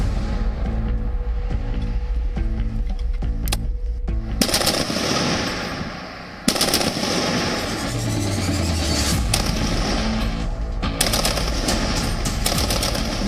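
Machine-gun fire at the Indian Navy's INS Dronacharya gunnery school, loud rapid bursts of automatic shots punctuated by sharp heavy reports, with a brief lull midway before the firing resumes densely.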